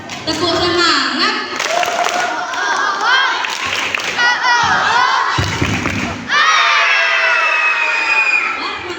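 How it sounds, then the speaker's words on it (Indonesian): Schoolchildren chant and clap together in a spirit cheer before a school storytelling session, a loud crowd of young voices with rhythmic claps and shouts, ending in sustained group shouting. "kita tepuk semangat dulu yuk."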